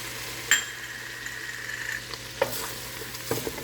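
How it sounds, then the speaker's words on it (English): Flour stirred into melted butter for a gumbo roux, a steady close sizzle with scraping strokes and occasional utensil taps on the pot. "My butter almost melted. And I'm gonna add my flour."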